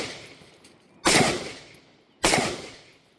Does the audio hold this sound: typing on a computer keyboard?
no